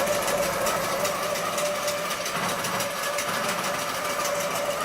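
A Butler Robotics longarm quilting machine stitches a quilt with a steady, fast mechanical hum and rapid needle chatter, close and even throughout, with no talking.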